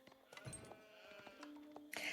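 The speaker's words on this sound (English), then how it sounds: "That's a lot of sheep." Sheep bleating in a strategy video game during a team tournament, several quiet overlapping bleats and baas in quick succession over low game sounds, with no talking.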